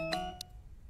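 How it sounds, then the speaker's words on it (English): A doorbell rings in a Japanese horror video game, giving a short two-tone ding-dong that fades quickly into quiet. "Did someone just ring the doorbell?"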